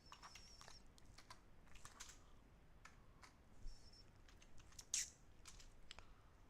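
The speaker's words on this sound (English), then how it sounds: "I'm going to type on the message." Someone types a message on a computer keyboard during a live trading session, with scattered, quiet keystrokes and a few louder taps, heard close but faint against a hushed room.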